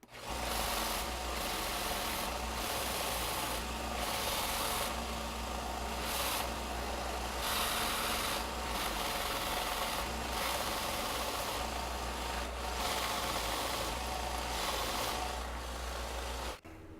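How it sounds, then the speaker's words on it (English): A belt sander grinds on wooden address sign letters to free the pieces, making a loud, continuous motor drone with rough abrasive noise that pulses slightly throughout and stops abruptly at the end. "we're going to put it on the belt sander, and then these should just pop right out"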